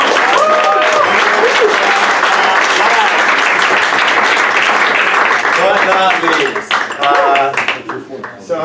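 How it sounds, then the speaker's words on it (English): Loud, close round of applause at a graduation event with founder pitches, sustained clapping while voices and whoops cut through, thinning near the end as someone starts speaking. "All right, big round of applause."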